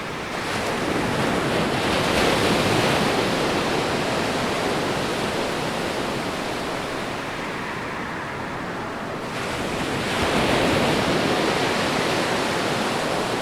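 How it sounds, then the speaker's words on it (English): Sea waves crash into seawalls on the coast of Baracoa, Guantanamo, Cuba, a loud continuous roar of surf and spray with wind noise, dipping briefly and then surging again near the end. "waves crashing into the seawalls and causing the first breaches and flooding along the coast of Baracoa, Guantanamo"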